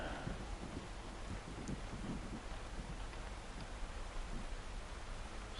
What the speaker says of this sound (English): We'd have to be out here in a thunderstorm,